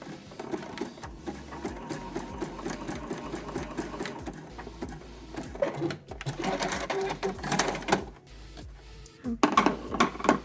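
Sewing machine running in steady bursts as it stitches a thin lace thong seam at the crotch, a close mechanical whir with rhythmic needle chatter, speeding up and louder toward the end.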